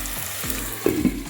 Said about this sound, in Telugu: ఉల్లిపాయలు మగ్గనివ్వండి